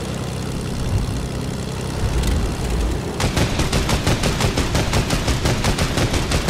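Rapid automatic gunfire in the Fortnite or Apex video game, a fast regular burst of shots that starts partway through over a droning aircraft engine, loud and close with no talk.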